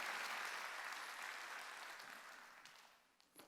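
A church congregation claps together during a Sunday worship service, a dense wash of applause that fades gradually and thins out toward the end.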